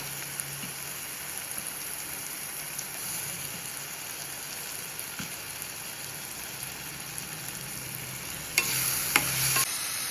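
Tomatoes go into a frying pan for a pepper chicken gravy and are stirred, giving a soft, steady sizzle with faint scraping and a brief louder surge of hiss near the end.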